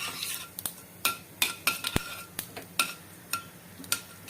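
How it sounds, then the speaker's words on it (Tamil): Mustard seeds and urad dal crackle in hot oil while tempering for a pepper kuzhambu, giving a run of sharp, irregular pops and spits, close and fairly quiet, with no talk. "கடுகு வெடிக்கட்டும், உளுந்து சதக்கட்டும்."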